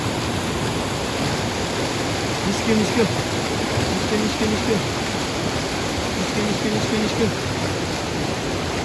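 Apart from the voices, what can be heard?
flowing river water, Rawa river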